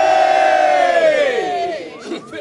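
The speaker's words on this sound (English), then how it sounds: "After three, shall we do a cheer or two?" A crowd gives a loud, sustained group cheer in unison, a rising and falling massed shout that breaks into scattered whoops near the end.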